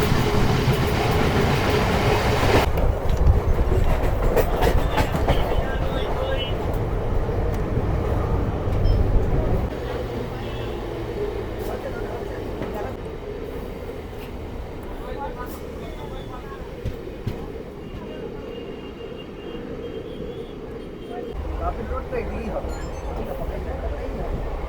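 63581 Barddhaman Rampurhat MEMU passenger local train running, heard from on board as a steady loud rumble of wheels and carriage noise that drops to a lower level partway through and rises again near the end.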